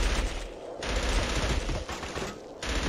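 Sustained automatic gunfire in the video game Killzone, loud continuous bursts of shots layered together, briefly pausing and resuming over a few seconds.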